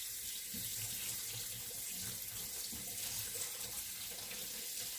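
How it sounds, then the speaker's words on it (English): Beef pieces are rinsed under a running kitchen tap, a steady, even rush of water into the sink, close and continuous, with no talking. "I think there's 3 more in here, so let me rinse it,"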